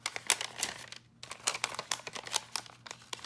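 An adhesive sheet backing is peeled off during papercraft card making, giving close crinkly crackling bursts with a brief pause partway through.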